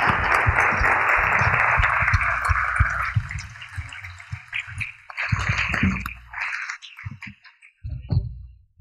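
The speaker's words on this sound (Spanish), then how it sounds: "Un aplauso, por favor." Audience applause at the Stratamigos 2015 event, a dense sustained clapping for about three seconds that then thins into scattered, fading claps with gaps between them.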